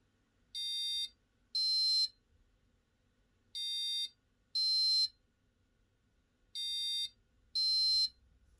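An Arduino passive buzzer gives high, shrill electronic beeps in pairs, three pairs in all, with quiet gaps between pairs. The beeps are clear and fairly faint, with no talking.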